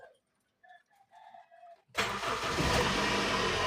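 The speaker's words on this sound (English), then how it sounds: "The car starts immediately." A car hooked to a portable jump starter fires up abruptly after a few quiet chirping sounds, then settles into a loud, steady running engine close by.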